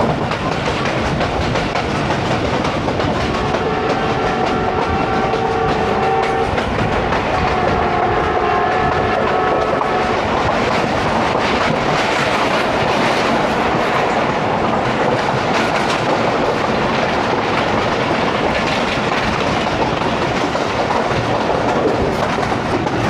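Passenger train 9UP Allama Iqbal Express running at speed between Lahore and Narowal in rain, a loud, continuous rumble with rhythmic clickety-clack from the rails and a brief horn tone near the start.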